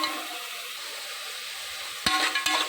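Small onions sautéing in a pan for chicken biryani give a soft, even sizzle and hiss, then two sharp metallic clanks of a utensil near the end.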